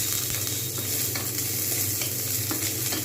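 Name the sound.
onions frying for chana masala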